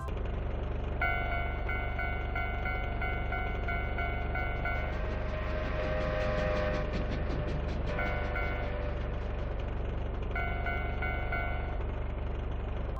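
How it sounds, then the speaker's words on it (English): A steam train in the video game Mario Kart 64 chugs along the track with a steady low rumble and rhythmic puffing, and sustained whistle-like tones rise and fall over it. "a train chugging along the tracks, the wheels turning in rhythm as the steam engine pumps out smoke"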